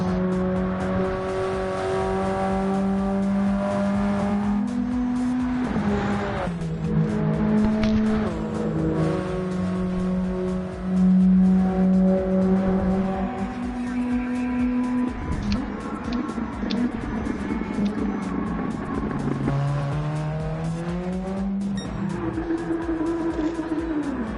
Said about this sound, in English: So once you go past the finish line, Steve will be starting the race